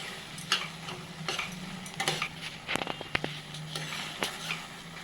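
A spoon stirs and scrapes a thick vegetable mixture being sautéed in a pan for sandwich filling, giving repeated clinks and scrapes over a soft, steady sizzle, close and fairly loud with no talking.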